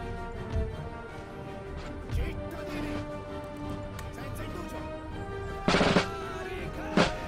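Musket volleys crack in the Empire Total War video game, several scattered shots and a couple of louder bursts over a steady battle din with game music, no voices in between.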